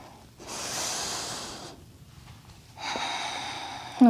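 Two audible breaths during a Pilates rolling exercise: a long airy inhale, a short pause, then a second breath, close and fairly quiet.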